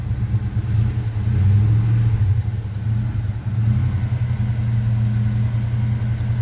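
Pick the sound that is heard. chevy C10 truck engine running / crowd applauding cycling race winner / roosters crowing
chevy C10 truck engine running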